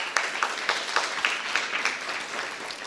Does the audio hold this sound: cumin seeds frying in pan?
no